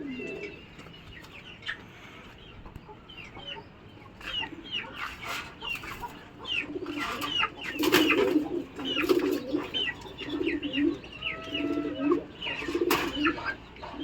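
Pakistani high-flying pigeons coo repeatedly in low, throaty bursts, close by, with scattered chirps and flutters from other birds in the background.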